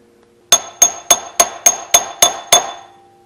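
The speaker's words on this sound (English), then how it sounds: "I'm going to try to install the pilot bearing in there and see how it works" Eight sharp metallic hammer blows ring out in a steady rhythm as a pilot bearing is driven into the crankshaft of an LS V8 engine being mated to an older GM four-speed manual transmission, close and loud with no talk.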